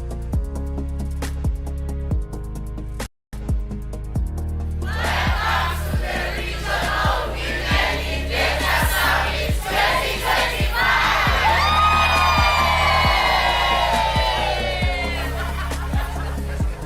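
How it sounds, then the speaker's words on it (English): Conference audience at a regional women in data summit breaking into loud sustained crowd noise with cheering and whoops after a short pause, continuing over steady background music. "clap for yourselves for being here"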